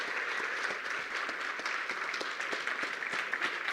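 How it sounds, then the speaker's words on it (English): Conference audience applauding a keynote speaker, a dense, fairly distant wash of clapping that holds steady throughout. "A round of applause"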